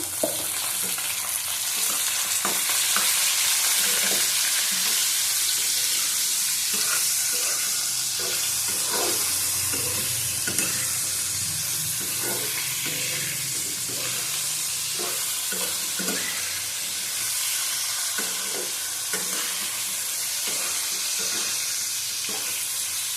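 Potatoes and onion frying with salt and turmeric, a steady broadband sizzle running throughout with repeated scrapes and clinks of a spatula stirring the pan, close and fairly loud, with no talk.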